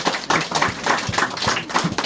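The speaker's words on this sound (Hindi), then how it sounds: "ताली बजा सकते हैं इस बात को" An audience in a church teaching session claps hands together, a dense run of quick, fairly loud claps with an uneven rhythm and no talking.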